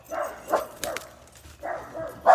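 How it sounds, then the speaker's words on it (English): Dogs bark outdoors in short repeated bursts, a few sharp yips and barks at moderate distance with brief pauses between them. "And excuse the dogs."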